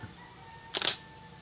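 A camera shutter fires once, a short sharp mechanical click-burst in a quiet room during a manual-mode exposure at around f/4.5.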